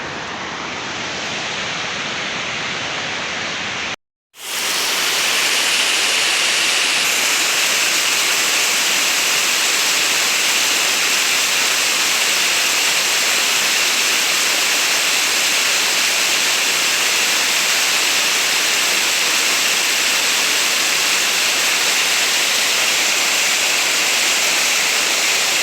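The Uchar waterfall in the Altai mountains gives off a loud, continuous rushing roar, broken by a brief dropout to silence a few seconds in before resuming at full strength.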